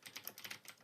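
Quick, light typing on a computer keyboard, about seven or eight soft keystrokes in under a second, close and faint, with no voices.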